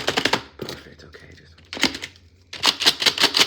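A computer keyboard clatters in quick bursts of sharp clicks, close and crisp, with pauses between runs of keystrokes and a voice speaking softly in the gaps.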